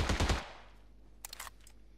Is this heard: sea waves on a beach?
no